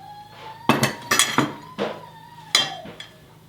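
A fork mixes pie crust ingredients in a dish, giving several sharp clinks and scrapes of metal against the dish in irregular bursts, close and fairly loud, over a quiet background hum.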